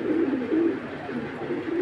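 Giribaj pigeons, one of them about four years old, coo in repeated low phrases, steady and close, with no talking heard.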